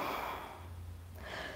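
Slow, steady breathing in a calm yoga class, a single drawn-out breath with a soft exhale near the close, close and fairly quiet, no talking.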